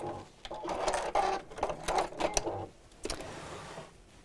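A sewing machine fitted with a denim needle stitches through thick layers of fabric in short, rhythmic bursts of mechanical whirring, pausing briefly between runs, close and fairly loud.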